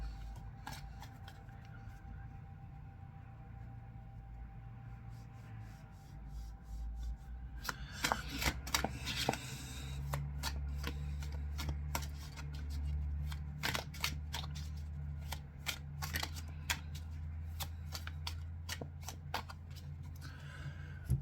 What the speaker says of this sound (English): Let's pull some cards for you today.